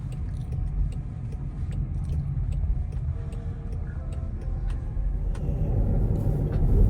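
Inside a driverless robotaxi during a ride, a low, steady road rumble fills the cabin, with a regular ticking over it and no talking.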